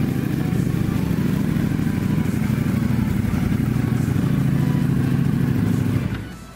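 A powerful two-cylinder motorcycle engine runs with a loud, throbbing, steady rumble close by, then fades off quickly at the end.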